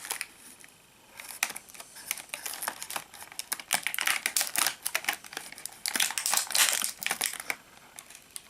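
Plastic packaging ties and wrap crinkle and crackle in irregular bursts while a Masters of the Universe Grizzlor toy is unboxed, close and fairly quiet, with no talking.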